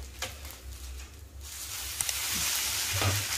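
Sabudana dosa frying on a hot pan, a soft continuous sizzle with a few scraping taps as the dosa is flipped, close and fairly quiet, no talking.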